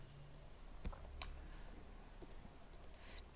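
A computer mouse giving a few faint, sharp clicks spaced apart over a quiet background, with a brief louder click near the end.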